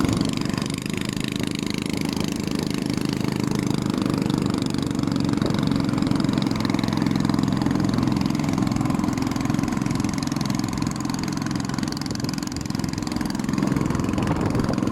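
A motorboat engine drones during a boat ride from Don Long to Ban Hang Hi Noi. The loud, rough motor runs close and unbroken the whole time, with no voices.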